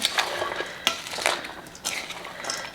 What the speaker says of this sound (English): I'm gonna take this spoon and I'm just kind of gonna mix it all together